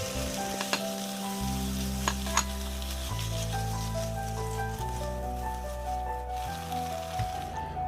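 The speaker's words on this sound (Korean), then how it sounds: "아보가도 오일을 두르고 파, 고추 등의 향신채를 먼저 볶아 기름을 내줍니다." Scallions and chili peppers stir-fry in avocado oil, a steady close sizzle with faint stirring scrapes running throughout, no voices.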